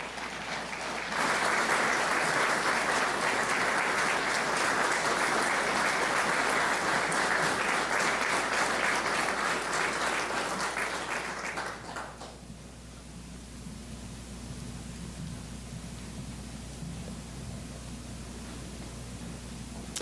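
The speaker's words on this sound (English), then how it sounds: "Could we please have a round of applause for Master Warrant Officer Kennie?" Audience applause for a Canadian Armed Forces veteran at a museum tribute, a sustained loud crowd clapping lasting about eleven seconds before fading into quiet room tone with a low hum.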